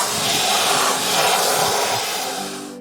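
A special vacuum cleaner works over dirty Jaguar car carpets, giving a loud, steady, close-up rushing suction that fades out at the end.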